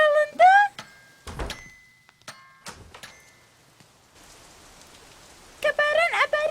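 Cartoon rain falls in a soft, even patter for a second or so, set between bursts of animated voices and bright tonal sound effects.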